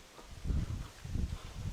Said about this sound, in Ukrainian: Вітер сильний зараз, я скажу вам.